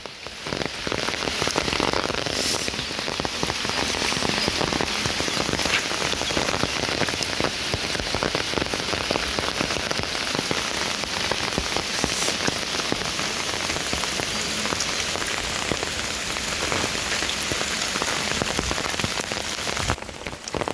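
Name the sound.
heavy rain falling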